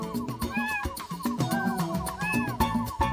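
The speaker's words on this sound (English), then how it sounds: "I think I hear a kitten." A kitten's meow is heard in a cartoon, rising cries repeating a few times over bouncy background music.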